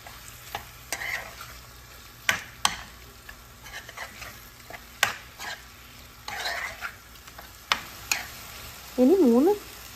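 Chicken pieces sizzle in a hot pan for Dhaba-style methi chicken masala while a spoon stirs and scrapes them, giving a steady close frying hiss broken by sharp clinks and scrapes against the metal.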